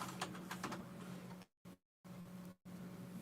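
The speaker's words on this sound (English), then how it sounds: "You over here just typing and clicking and typing and clicking." Rapid typing and clicking on a computer keyboard in a home kitchen setting, a steady run of close, light taps that cuts out twice in short silent gaps before resuming.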